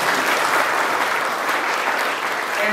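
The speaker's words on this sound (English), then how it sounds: "Let's give a round of applause to all of us." Steady, dense applause from an audience at a felicitation ceremony honouring a UPSC civil services rank holder, filling the whole stretch at an even, loud level without pause.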